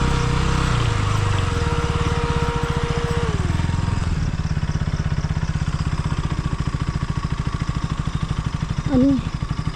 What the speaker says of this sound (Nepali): मैले भर्खर स्टार्ट गर्दैछु है बाइक पनि नयाँ छ